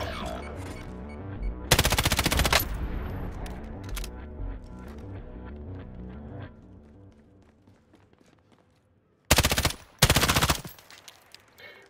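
Automatic gunfire in Call of Duty: Modern Warfare, loud bursts of rapid shots separated by gaps, with busy game sounds and scattered footsteps in between.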